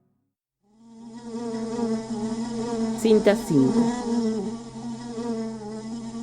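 A housefly in a house buzzes with a steady, close, droning hum that rises in and holds throughout, with a brief spoken voice partway through.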